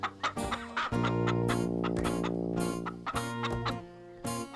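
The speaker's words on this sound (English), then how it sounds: "The chickens in the yard had familiar feathers, reminiscent clucks." Animated chickens in a farmyard cluck in a steady run of close, fairly loud calls, punctuated by sharper accented clucks over a sustained musical tone.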